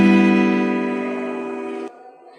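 A single guitar chord rings out clearly and alone, sustaining and slowly fading for about two seconds before being cut off abruptly.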